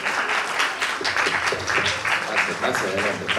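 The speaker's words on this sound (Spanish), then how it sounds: "Un aplauso por favor. para nuestro ganador." Audience applauding a raffle winner called to the stage, steady dense clapping from a crowd sustained throughout, with a voice briefly audible underneath.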